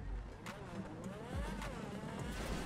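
A car accelerating during a race in GTA 5, with a rising and falling engine drone that surges up and down in pitch over a steady rumble, loud and continuous.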